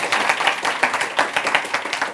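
A studio audience on a Turkish late-night talk show claps in quick, fairly distinct hand claps forming an uneven rhythm, moderately loud and close, with no talk over it.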